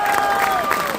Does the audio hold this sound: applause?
yes